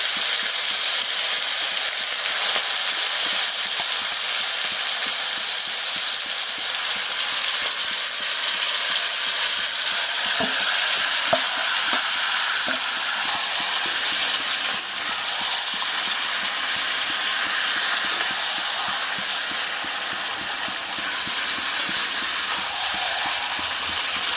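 Chicken frying in oil with bay leaf, cumin and whole spices for chicken biryani, a loud, steady hiss and sizzle throughout with faint crackles, close and constant.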